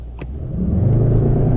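A 612 HP Mercedes E63S 4-Matic Estate roars hard under launch control, a deep, loud engine rumble that builds steadily from the start and holds close and strong throughout, with no talk.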